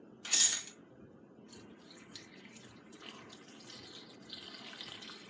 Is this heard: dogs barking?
no